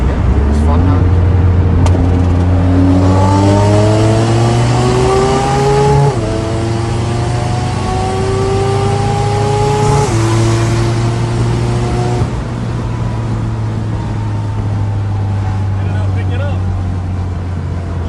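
A Mazda RX7 with a three-rotor billet engine, dual-clutch gearbox and Ford 9-inch differential accelerates hard at Darlington dragway, engine rising steadily in pitch through several gear shifts, loud and sustained.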